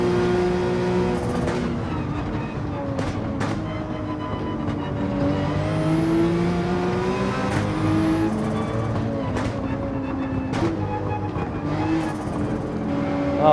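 Porsche 911 race car engine in Gran Turismo 7, a rear-engined racer whose tone climbs and drops through gear changes, shifting sharply every second or two over continuous engine drone.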